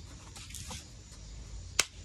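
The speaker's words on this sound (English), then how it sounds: "Clap in front of the camera." A single sharp hand clap in front of a camera indoors near the end, sounding alone against faint background noise.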